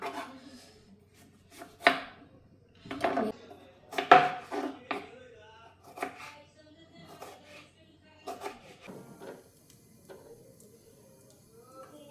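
Knife chopping crushed ginger on a board, a series of sharp irregular knocks clustered at the start and thinning out later, close and moderately loud with no voice.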